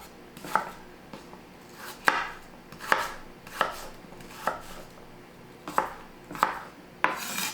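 A knife chops salad vegetables into chunks on a board, producing about a dozen crisp, close, evenly spaced thuds in a loose, steady rhythm with no talking.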